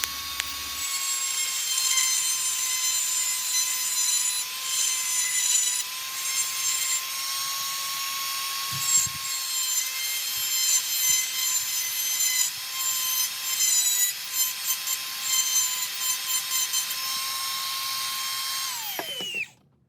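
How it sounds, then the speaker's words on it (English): A high-pitched power grinder whines continuously, grinding off excess screw ends, a steady harsh drone with slight shifts in load, then stops abruptly at the end. "we'll grind off the excess of the screws"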